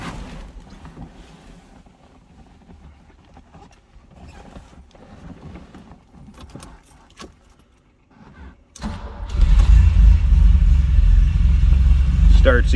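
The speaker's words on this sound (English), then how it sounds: "Let's go ahead and fire this up." A 1980 Ferrari 308 GTBi engine cold-starts after a stretch of quiet cabin noise and small clicks, then catches and settles into a loud, steady rumble close by.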